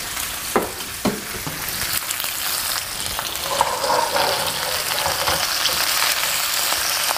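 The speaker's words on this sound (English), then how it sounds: "Give it a stir," Spiced okra and vegetables frying in a big pan, with a loud, continuous hissing sizzle and a few early clunks from a utensil stirring, close up with no voices.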